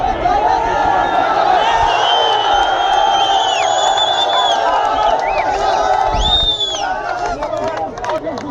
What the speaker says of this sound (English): A lot of shouting and cheering going on at the moment.